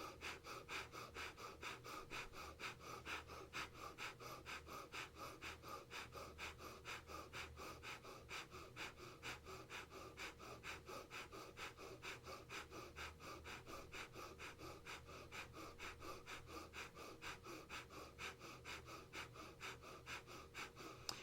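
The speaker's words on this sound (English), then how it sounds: "we're going to be doing breath of fire here" Rapid, rhythmic yoga breath of fire: sharp, even nasal exhalations pump at a steady fast pace for a long stretch, close and soft, with no talking.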